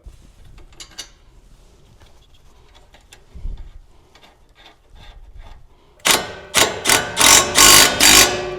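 Coilovers being bolted onto a 2005–2009 S197 Mustang GT: quiet metallic clicks and taps from hand tools, then a loud, close impact wrench fires in five rapid bursts as the bolts are driven home.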